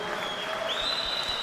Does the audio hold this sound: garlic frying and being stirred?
no